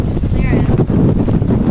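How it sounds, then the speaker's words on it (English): Loud, roaring hurricane wind from Hurricane Irma pounds the microphone in Miami in continuous gusts, close and overwhelming, with a brief faint tone near the start. "This wind is intense."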